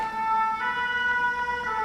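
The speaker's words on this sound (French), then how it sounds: "la sirène qui passe juste derrière" Emergency vehicle siren passing outside behind an indoor spot, a steady tonal wail with clear harmonics, moderately near and continuous for the whole short stretch without speech over it.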